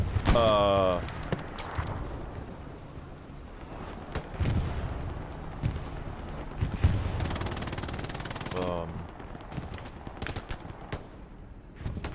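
Machine gun fire in the Hell Let Loose multiplayer war game, with sharp bursts and shots scattered through a busy battlefield mix, including a sustained rattling stretch, under ongoing talk.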